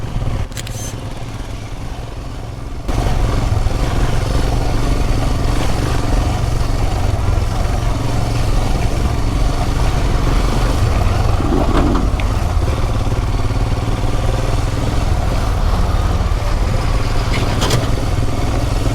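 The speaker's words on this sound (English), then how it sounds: "This is off-road riding." A 2021 BS6 Royal Enfield Himalayan rides off-road with a steady, loud engine drone and rough clattering over the terrain, shifting to a heavier, continuous roar after a brief quieter opening.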